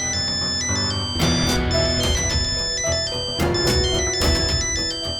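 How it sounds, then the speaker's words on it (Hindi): A phone ringtone plays loudly and continuously as an incoming call from home rings out, a repeating melodic electronic tune with no voices over it. "उठाओ फोन।"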